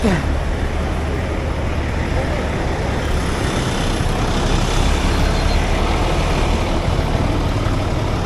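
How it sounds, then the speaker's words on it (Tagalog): Steady, loud roar of heavy road traffic with trucks and buses idling and rumbling nearby on a congested highway, a continuous dense wash of engine noise with no pauses. "Traffic."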